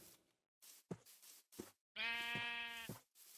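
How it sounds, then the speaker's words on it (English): Minecraft sheep bleat in a video game, with one clear, sustained wavering bleat after a few short soft sounds, heard alone and close. "Sounds like sheep."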